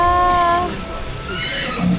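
A horse at Tokyo DisneySea neighs in a short whinny over the first half second, fairly close, followed by a park crowd murmur and faint voices.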